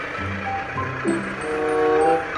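A KAI passenger train hauled by a CC206 diesel locomotive runs nearby, a low rumbling engine drone with tonal hum rising gradually louder over a couple of seconds, no talking.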